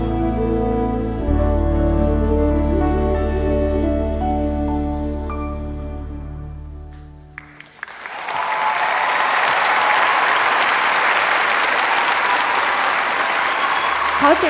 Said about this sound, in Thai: ปรบมือให้กับโรงเรียนโยธินบุรณะกรุงเทพมหานครค่ะ